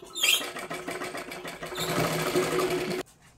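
Sewing machine stitching blouse fabric in quick, rattling bursts of needle strokes, close and fairly faint, stopping abruptly near the end.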